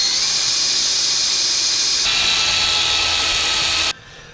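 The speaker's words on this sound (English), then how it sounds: "Now I gotta drill my hole for my screw to fit through" A power drill whirs steadily at high speed for about four seconds, drilling a screw hole in a bracket of a 1/14 scale lowboy trailer, shifting pitch midway, then stops abruptly, leaving quiet background.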